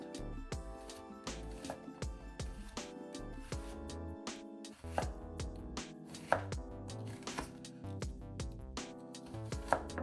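Knife slicing an onion on a cutting board in rapid, steady repeated chops, crisp and close, with thuds of the blade against the board running continuously over about ten seconds, no talking.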